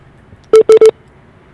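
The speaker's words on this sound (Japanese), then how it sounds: "それではおかけしたいと思います。" Telephone keypad dialing tones while placing a call: three quick, loud, close beeps in rapid succession, then a fourth beep after a short pause, over a quiet background.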